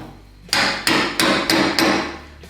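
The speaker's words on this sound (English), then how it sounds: "I'm going to take my dead blow hammer" A dead blow hammer strikes a steel wrench clamped in a vise, five sharp, heavy blows at an even pace, close up and loud with no voices.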